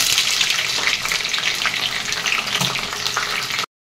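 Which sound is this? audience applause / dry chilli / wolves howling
dry chilli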